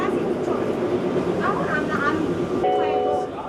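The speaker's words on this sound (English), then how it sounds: "Welcome aboard the plane train." An airport plane train departs, its rolling rumble and rail hum filling the carriage, with brief tonal chimes or a signal near the end and a voice speaking over the noise.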